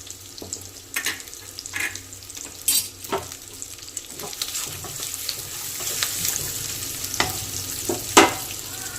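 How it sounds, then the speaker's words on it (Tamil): Onions frying with salt in a pan for prawn kuzhambu, a steady soft sizzle broken by repeated spatula stirs and scrapes against the pan, close and without talking. "வெங்காயம் போட்டு ஒரு 2 மினிட்ஸ் ஆகிடுச்சு, நல்லா வதங்கிட்டு வருது."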